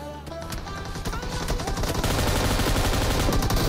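Sniper rifle gunfire in a mobile battle royale game, a dense, loud stream of rapid shots and echoing blasts that intensifies toward the end, with no talk.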